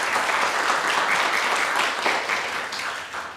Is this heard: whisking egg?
no